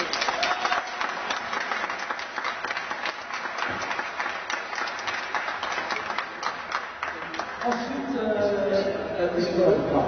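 A gathered audience at a 2003 final in St Soupplet applauds in a dense, continuous burst of clapping that carries on for several seconds. A voice comes in over the applause near the end.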